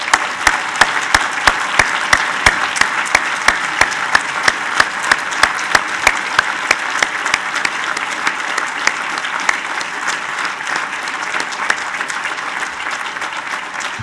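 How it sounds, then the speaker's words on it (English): Sustained applause from a large audience at a graduation ceremony honoring graduates, honorees and their families, with dense steady clapping that carries on for the whole stretch, a few sharp louder claps standing out early and the level easing slightly toward the end. "please join us in a round of applause for our graduates"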